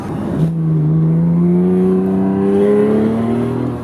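A Porsche 911 (997) Carrera S accelerates hard, its engine note climbing steadily in a loud, smooth, continuous rising drone heard from inside the car.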